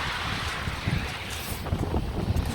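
Strong wind gusting across a UK beach during a night fishing session, roaring and buffeting steadily against the microphone, with faint surf underneath and no clear voices.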